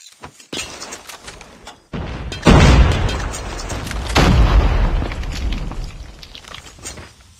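A frag grenade blast in Call of Duty Search and Destroy, a deep booming explosion with a long rumbling low tail, loud and close, preceded by short thuds and clatter.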